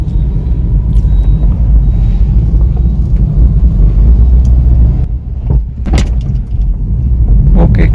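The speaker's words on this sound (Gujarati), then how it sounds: "હવે તમને સ્પીડ બ્રેકર ઉપર સસ્પેન્શનનું ફીડબેક દેખાડી દઉં" A 2016 Hyundai Grand i10 Asta 1.2 petrol automatic passes over a speed breaker, with a loud steady cabin rumble of road and engine noise and a couple of brief knocks near the end.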